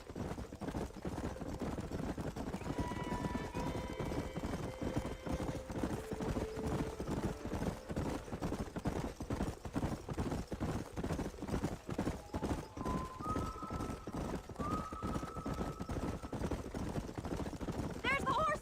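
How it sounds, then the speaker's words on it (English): Horse hooves clip-clop steadily in Red Dead Redemption, a rapid galloping patter under wind and game music, with a few tonal notes drifting above. "There's the horses!"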